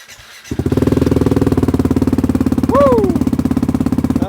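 Ducati Hypermotard 698 fitted with an Austin Racing exhaust, baffles out, starting up and running with a loud, close, rapid pulsing single-cylinder beat, revved briefly mid-way while a squealing whoop of excitement rises over it.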